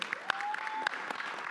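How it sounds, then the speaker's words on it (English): Audience applause at a conference panel, a short burst of many hands clapping at moderate distance, dense and even throughout. "Please give yourselves a round of applause."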